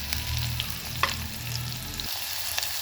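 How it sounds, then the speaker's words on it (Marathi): Onion and kasuri methi hit a reddened garlic tempering for ridge gourd sabzi, giving a loud, steady close-up sizzle with light stirring scrapes and a brief clink partway through. The sizzle thins near the end. "तर त्याच्यामध्ये आपण कांदा घालणार आहोत आणि थोडीशी कसुरी मेथी।"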